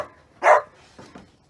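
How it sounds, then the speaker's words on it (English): A dog gives one loud, close bark, followed by two softer short yips, while playing with a ball indoors in a tiny house. "that's my dog with his bark ball."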